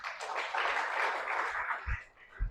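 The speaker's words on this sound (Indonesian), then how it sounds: "tepuk tangan bagi Tuhan kita." Church congregation clapping in praise during a sermon, a brief burst of applause rising and then fading, with a few thumps near the end.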